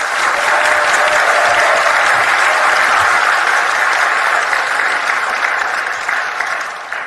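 A church gathering in Seoul applauds to welcome a speaker, a loud, sustained wash of clapping from a large crowd that continues unbroken before slowly tapering off.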